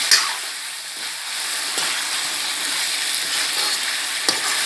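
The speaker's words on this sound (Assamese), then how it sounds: "মাজে সময়ে এনেকৈ লৰাই থাকিব।" Chicken and pumpkin curry frying in a pan, with a loud, steady hiss of sizzling throughout and occasional soft stirring scrapes near the start and end.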